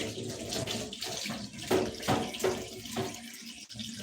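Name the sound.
rinsing a filter under running water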